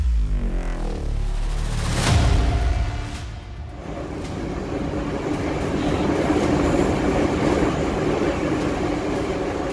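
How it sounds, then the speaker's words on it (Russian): A metro train on Line 2 of the Termez Metro in Uzbekistan rumbles loudly and close, with a rising whine and rushing roar as it runs into a tunnel, followed by sustained clattering wheel noise. "Before reaching the station, the trains would dive back into the tunnels."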